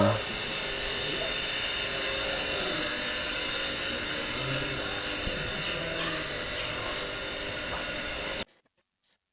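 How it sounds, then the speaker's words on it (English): A silversmith's power tool polishing handmade silver in a workshop, giving a continuous high whirring grind with a faint hiss. It runs steadily for about eight seconds before cutting off abruptly. "He's polishing."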